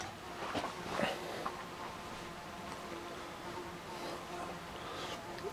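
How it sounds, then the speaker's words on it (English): A bluebottle fly buzzes inside a wooden workshop shed, a faint, steady drone that holds for several seconds with slight swells, set against quiet background noise. "You can hear that buzzing. Just had a blue bottle fly into the shed."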